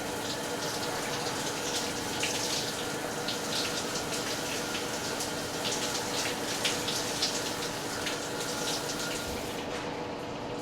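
Shower water pours steadily onto a wet black first base mitt, a constant close hiss of spray that holds even for about ten seconds before tapering off at the very end.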